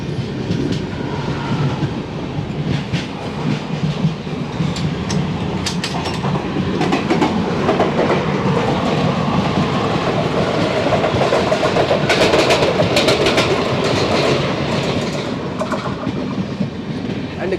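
Pandian SF Express train rolling along the tracks, heard from inside a sleeper coach as a steady rumble with rhythmic clickety-clack of wheels over rail joints.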